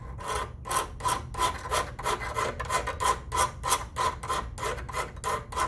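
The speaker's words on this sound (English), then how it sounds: "Just turn your file over and then you're gonna file up, still towards the handle part." Steady rhythmic rasping of a hand file, about fifteen back-and-forth strokes at an even pace, close and fairly loud with no talking.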